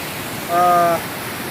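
Floodwater after heavy rain rushes steadily through a large stream outside Yadgir, a dense roar, with a brief tonal sound rising above it for a moment.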